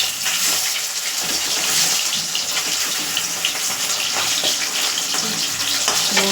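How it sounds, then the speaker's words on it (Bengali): Catla fish fries in a pan with a dense, steady sizzle and hiss, close and fairly loud throughout, broken by small pops and crackles. "মাছটা ভেজে নিচ্ছি, কাতলা মাছটা।"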